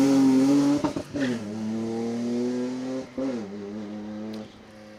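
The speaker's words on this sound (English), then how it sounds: "the 325 BMW in BMW Motorsport colours. Sounds and, would you believe it, smells excellent." BMW 325 rally car in BMW Motorsport colours accelerating hard on an asphalt rally stage, with a loud, close engine revving through quick gear changes and brief dips between pulls.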